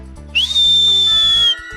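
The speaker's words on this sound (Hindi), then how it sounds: "देखा कैसा सीटी बजा।" A person whistles with puckered lips, a single loud, clear high tone that rises at the start and then holds steady for over a second, heard alone with a low hum underneath.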